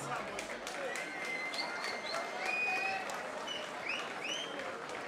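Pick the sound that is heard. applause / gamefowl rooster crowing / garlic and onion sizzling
applause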